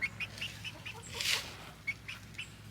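Faint clucking from several chickens, short repeated calls scattered over a low background hum.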